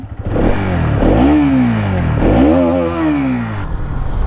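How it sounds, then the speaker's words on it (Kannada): A Bajaj Pulsar NS200 motorcycle exhaust revs loudly up close, two rising and falling throttle blips over a throaty idle. "ಈ ಗಾಡಿಯ ಎಕ್ಸಾಸ್ಟ್ ಸೌಂಡು ಕೇಳಿಸ್ತೀನಿ"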